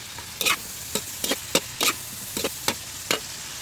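String beans stir-fried in a pan, a soft background sizzle punctuated by about eight crisp spatula scrapes in an uneven rhythm, close by and without speech.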